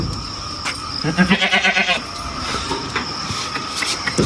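Goats bleat at a farm outing before being taken to a livestock market, a rhythmic run of calls rising over steady background noise with people talking nearby.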